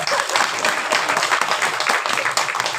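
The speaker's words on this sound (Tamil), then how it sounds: "இந்த சபை கைதட்டுவதை பார்த்து" Audience in an assembly hall breaking into applause, a dense, steady wash of many hands clapping at close range for a few seconds.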